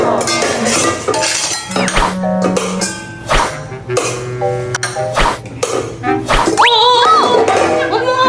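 Plates and dishes clink at a home meal as rice and viand are served, with scattered bright clinks and rings over busy background sound and music.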